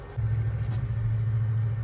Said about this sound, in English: That noise is the inverter.